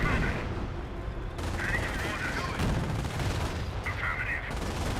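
Repeated heavy tank-gun blasts from a Panzer IV in the World War II strategy game Company of Heroes, several booming shots amid rumbling battle noise and scattered smaller arms fire.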